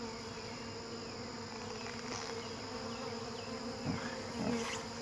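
Bees from a newly installed package buzz in a steady close swarm drone, with individual bees flying past now and then as louder, swelling buzzes.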